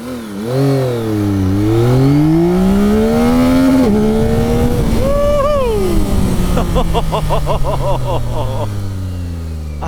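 A 2024 Yamaha XSR900 GP motorcycle engine revs up hard through first gear and climbs in pitch, held at high revs for several seconds, loud and close.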